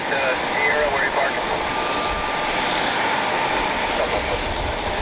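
Alaska Airlines Boeing 737 jet engines roaring at an airport in Cleveland, a broad, steady rumble with a whining edge, loud and sustained throughout.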